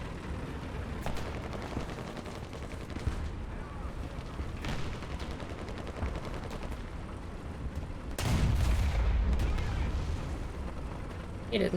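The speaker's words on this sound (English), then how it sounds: "light tank taking pot shots at me from the west" Shots from a light tank in a World War II-style tank video game, sounding as scattered distant booms with one heavy, loud blast near the end, over a continuous rumbling background.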